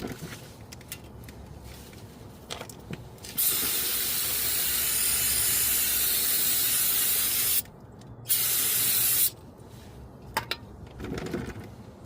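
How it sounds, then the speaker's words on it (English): An aerosol can of brake cleaner hisses in two sustained sprays over a car's front brake area, a long burst then a shorter one, with light clicks and handling noises between. "Now spray down the entire area with brake clean"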